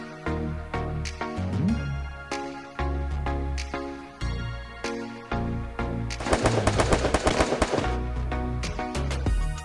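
Rapid, loud gunfire from the mobile game Free Fire: a steady rhythm of punchy shots over a musical backdrop, then a denser burst of fast automatic fire, with no talking.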